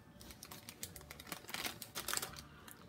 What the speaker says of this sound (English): now we're going to gently take the wax paper off